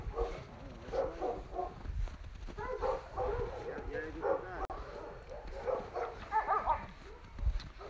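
Several dogs barking, yipping and whimpering in irregular bursts, moderately close and fairly faint, with people talking in between.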